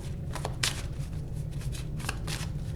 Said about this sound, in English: Let me get some more cards from the confirmation deck.